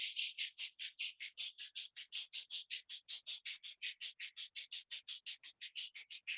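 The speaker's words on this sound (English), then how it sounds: "Rub your both palms." Palms rubbed briskly together during an online yoga class make a quiet, steady, rhythmic swishing, about five quick strokes per second in an even unbroken series, close and alone with no voices.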